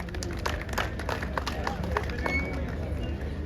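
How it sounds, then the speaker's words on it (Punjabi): An outdoor crowd at an agricultural expo fair claps together, a steady, moderately loud patter of applause with a voice over the public address. "ਜ਼ੋਰਦਾਰ ਤਾਲੀਆਂ ਵੱਜਣੀਆਂ ਚਾਹੀਦੀਆਂ ਜ਼ੋਰਦਾਰ ਤਾਲੀਆਂ"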